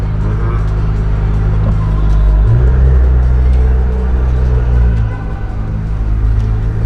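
A Honda NSX sports car engine on a test drive gives a loud, steady low rumble from inside the car. It swells deeper around the middle, then eases back before settling.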